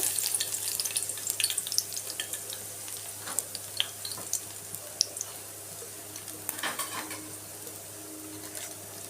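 Crushed garlic cloves frying in hot oil in a pot as tempering for tomato rasam, a steady close crackling sizzle with scattered sharp pops throughout.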